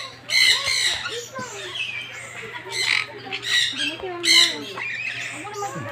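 Birds squawk in loud, overlapping bursts close by, harsh calls repeating throughout with a steady low hum underneath.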